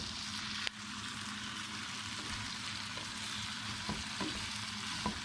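Chicken macaroni frying in a pan is stirred, a steady close sizzle with occasional scraping clicks of the spoon against the pan and no voices.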